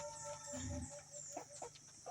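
White Leghorn cross Lohmann chickens clucking softly nearby, a few short throaty calls scattered over a low background hum, with no talking.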